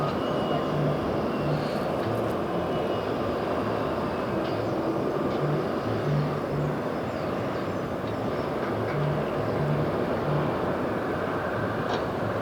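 A passenger jet arriving at JFK from Ithaca, New York, gives a steady, broad roar that carries on at moderate distance for the whole stretch, with no talking.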